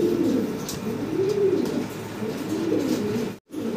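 A fancy pigeon coos close up in soft, low, rolling phrases that rise and fall repeatedly, ending with a brief drop to silence, with no voices present.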